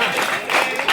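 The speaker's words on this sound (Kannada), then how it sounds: "ವಿದ್ಯಾರ್ಥಿಗಳು ಜೋರಾದ ಚಪ್ಪಾಳೆ ಮೂಲಕ ಅವರಿಗೆ ಅಭಿನಂದನೆಗಳನ್ನು ಸಲ್ಲಿಸಬೇಕಂತೇಳಿ ಕೇಳ್ಕೊಳ್ತೇವೆ" Students at a government school event clapping loudly, a brief burst of dense applause with a few voices mixed in.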